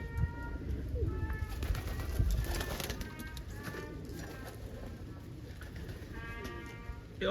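Soft cooing from a young almond pigeon, repeated low coos over a background of murmuring and shuffling, fairly close by.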